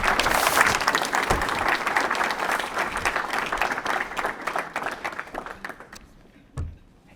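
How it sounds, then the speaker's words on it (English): An audience at a Rotary CTE awards event applauds steadily as a student walks up; dense clapping fades out near the end, followed by a single dull thump. "And we can clap for him when he's walking up."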